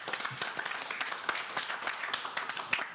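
Small group clapping for Asia Telecom at a mobile repair training session, light scattered claps, fairly faint and brief.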